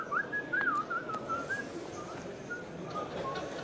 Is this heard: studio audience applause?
no